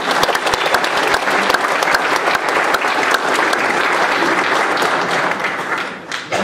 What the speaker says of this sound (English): If you give him a big round of applause.